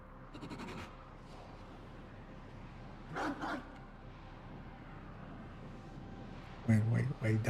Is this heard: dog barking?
yes